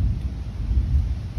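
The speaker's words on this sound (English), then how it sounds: "Here thunder." Low, rolling thunder rumbles continuously over a botanical garden in Aburi, Ghana, deep and sustained without a sharp crack, with no talk over it.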